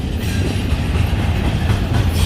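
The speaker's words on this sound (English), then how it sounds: "you're seeing this train still go by" A freight train passes close by, a loud, steady rumble of rolling wagons with a rhythmic clatter of wheels over rail joints, heard alone without talk.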